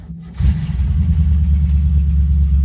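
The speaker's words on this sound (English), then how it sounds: "if I have it in neutral and start the car, does it still make the awful noise?" A Rover P6 engine cranks and catches with a brief whir, then settles into a loud, close, steady idle rumble, started in neutral with the clutch pedal held down, no talk.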